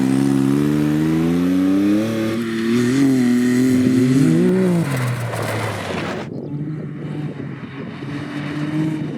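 Engine of a Can-Am Maverick X3 Turbo side-by-side revving hard and close, pitch climbing and dipping over several seconds before dropping into a rougher, lower drone.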